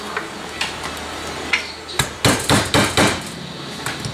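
Light hammer taps on a Sega arcade pedal assembly: scattered single knocks, then a quick run of four or five sharp metallic taps close up, fading back to sparse hits over a steady background hiss.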